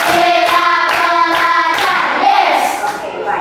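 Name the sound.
class clapping hands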